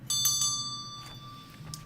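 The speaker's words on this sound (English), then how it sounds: "I'll ring my bell, darling." A hand bell is struck a few times in quick succession, then leaves a bright, sustained ring that slowly fades, close and alone without speech.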